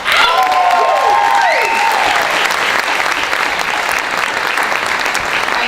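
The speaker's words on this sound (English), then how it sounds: "please give a warm round of applause for the founder and president, the amazing Cami Marseille" A crowd at an evening event bursts into loud, sustained applause with some cheering for the founder and president, the clapping dense and even throughout, with brief whistles or shouts early on.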